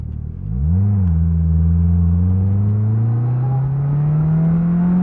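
2022 Polaris Slingshot SL pulling away: a steady close engine drone that rises quickly at first, then climbs slowly and smoothly through a long acceleration, with no talk.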